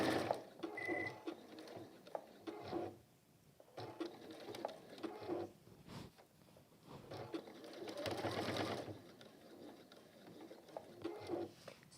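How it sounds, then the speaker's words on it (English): Sewing machine stitching a seam on a velvet folded pouch: a soft, rapid mechanical patter running in bursts with brief pauses between, quiet and close throughout. "So I'm going to sew on that line again."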